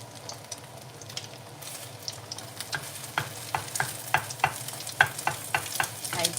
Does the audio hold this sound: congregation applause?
no